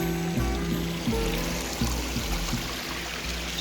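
A river in the Australian Alps at a suspension bridge crossing rushes and churns steadily nearby, a broad continuous wash of flowing water without voices.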